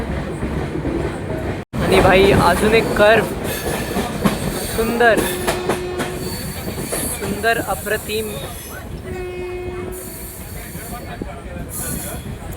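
A passenger train runs along the rails past Dativali toward Diva, with a steady rumble and clatter and a couple of sustained horn-like tones partway through, while someone talks over it close by.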